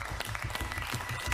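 Brief, muffled applause from fellow contestants in a cooking competition final, heard under a low rumbling background for about a second and a half.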